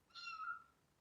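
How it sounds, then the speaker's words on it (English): A single soft meow from a house cat, heard faintly in the background of a quiet room. "That's my kitty."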